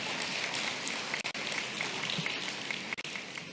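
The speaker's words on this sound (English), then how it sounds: "Can I solicit a clap?" Audience at a youth conference on human trafficking claps steadily, a dense moderate patter of hands with no voices over it.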